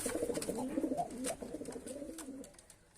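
A racing pigeon coos close by in soft, throaty rolling notes, a few gurgling phrases over quiet background.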